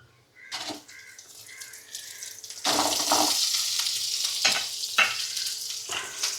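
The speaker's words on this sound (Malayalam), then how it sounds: "വറ്റൽമുളക് നല്ല ഈ എണ്ണയിലൊന്ന് ഇടന്നൊന്ന് നല്ല പോലെ ഒന്ന് ചൂടായതിന് ശേഷം നമുക്ക് ഇതിലേക്ക് കൊച്ചുള്ളി ചേർത്ത് കൊടുക്കാം" Dried red chillies crackle and sizzle in hot oil, then shallots go in and a louder, fuller frying hiss takes over with a few sharp spits and pops, close and steady.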